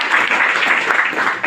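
Audience applause for a guest named Rameshwar at a gathering, a steady dense wash of clapping lasting throughout without gaps, fairly loud and close.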